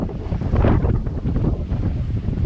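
Wind on a Lagoon 42 catamaran sailing off Corsica in about 14 knots of breeze, a loud, continuous rushing roar buffeting the microphone, with faint water and hull sounds beneath.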